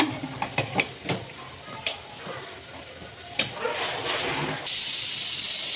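A pressure cooker of chicken biryani with a few light clicks and rattles, then a sudden loud, sustained whistle of escaping steam that hisses steadily to the end.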